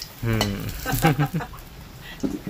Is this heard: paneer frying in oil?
yes